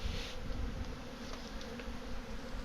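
Strong swarm of African bees inside a pool pump, a dense, steady, close buzzing drone that holds evenly throughout with no voices.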